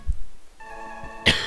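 A single sharp cough bursts out near the end, loud and close, after a quiet stretch carrying a faint sustained electronic tone from a Terranigma game session.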